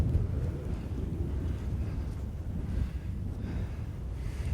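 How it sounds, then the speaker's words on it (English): Steady low rumbling wind buffets the microphone throughout on a hilltop among sand dunes in the Mojave National Preserve, California, a continuous blustery roar with no voices. "Still cloudy though and pretty windy up here"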